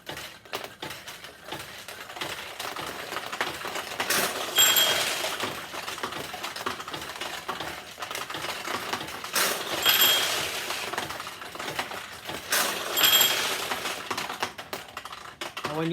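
Steel balls rattling through a 1976 Nishijin Model B vintage pachinko machine, a dense run of fast ticking clicks and pings, with brighter bursts of clattering around three points as balls pour through.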